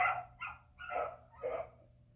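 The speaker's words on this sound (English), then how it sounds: "Oh yeah, we got a beagle in the neighborhood. I hear a beagle." A beagle somewhere in the neighborhood gives four quick, fairly faint barks in an uneven rhythm, heard from a distance over a low background hum.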